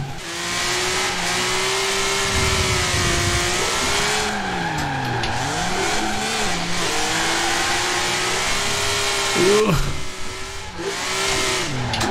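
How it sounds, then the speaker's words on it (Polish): A 450 hp BMW M3 E46 drift build spins donuts in Forza Horizon 4, its engine revving loudly and continuously, the pitch rising and falling as the tires squeal throughout. "Zobaczymy jak bardzo łatwo, czy w ogóle da się kręcić tym bączki"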